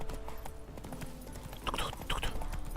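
Video-game horse hooves clip-clop in a quick, steady rhythm at close range, with faint background game sounds beneath.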